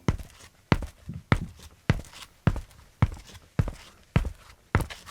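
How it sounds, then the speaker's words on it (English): Footsteps recorded in an acoustically treated home studio, about ten dry, close thuds at a slow, even walking pace with almost no room echo between steps. "So let me show you how this actually sounds with footsteps."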